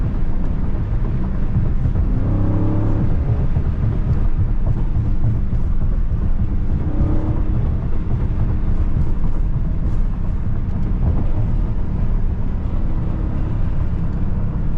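Loud, steady engine roar from a 500 hp Last Call Dodge Charger Scat Pack widebody with a Hemi V8 pulling hard through the lower gears. The sound holds throughout with no talk.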